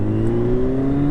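A Kawasaki Z1000 motorcycle engine running on a ride, a loud close steady drone with a slowly rising pitch as it pulls under throttle, no talk.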